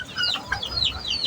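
Chickens feeding on their ration, several birds clucking and chirping in quick overlapping calls, close and fairly loud with no talking.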